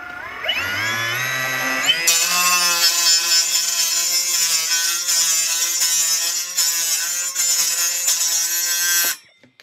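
AEG BMMS 18SBL cordless mini grinder cutting a PVC tube: the motor spins up with a rising whine, then a loud, sustained shrill cutting screech with slight wavering, before it stops abruptly near the end.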